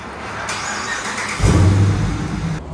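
A Dodge Charger R/T with its mufflers removed, an aftermarket exhaust setup, starting up: a squealing starter crank followed by a loud, deep engine catch and rumble, close and alone without talk.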